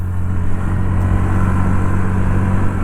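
A Honda Activa 110 scooter accelerates at full throttle, its steady, droning engine note loud and close and holding constant for the whole stretch.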